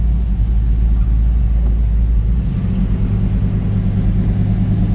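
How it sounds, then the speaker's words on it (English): The engine and exhaust of a 1957 Chevy 3100 Stepside pickup idle with a loud, steady, deep rumble heard up close, with no talking. "Exhaust sounds great."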